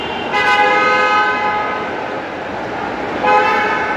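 Road traffic at the airport entrance where vehicles come in, with a loud car horn toot near the start and another near the end over steady engine and road noise.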